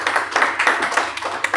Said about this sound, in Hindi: एक बार मोल साहब के लिए ज़ोरदार तालियां हो